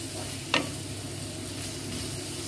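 Ground meat frying in a pan for a Filipino sautéed cabbage dish, a constant close sizzle with a single brief scrape or clink of stirring early on.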